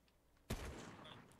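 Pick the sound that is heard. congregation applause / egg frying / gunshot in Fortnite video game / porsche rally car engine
gunshot in Fortnite video game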